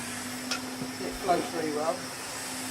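A vintage Hoover Constellation 862 vacuum cleaner, refitted with a new motor, runs with a steady whirring hiss and drone while someone talks over it nearby.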